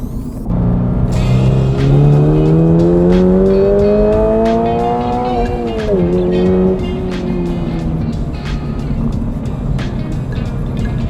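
A new Subaru BRZ / Toyota GR86 accelerating hard on a race track, its engine note climbing loudly and steadily, dipping briefly at a gear change, then pulling on under faint clicking.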